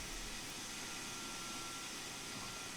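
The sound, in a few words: train vacuum brakes building up in video game Train Sim World 2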